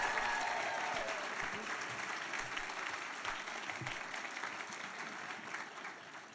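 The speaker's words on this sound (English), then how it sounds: "Give them a round of applause," Sustained applause from an audience at a child advocacy event, a steady dense wash of many hands clapping that fades slightly toward the end.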